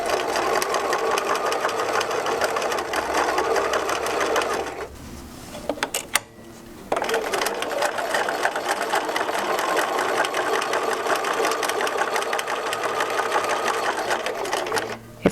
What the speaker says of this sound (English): I'm going to go ahead and top stitch close to the edge.